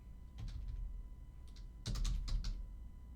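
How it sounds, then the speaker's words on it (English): Keys clatter on a computer keyboard in two quick bursts of typing, close and fairly crisp, separated by a short pause over a low background hum. "Typing too fast."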